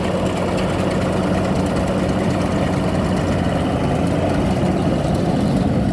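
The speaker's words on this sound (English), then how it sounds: "baler's in action, revs are up, PTO's spinning" A tractor engine running steadily at high revs, its PTO driving a hay baler, with a dense mechanical rumble and clatter from the baler working alongside, continuous and close.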